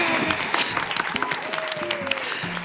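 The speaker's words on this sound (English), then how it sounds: "a round of applause for Poppy" Audience applause for Poppy rises as a dense burst of clapping, with voices talking over it throughout.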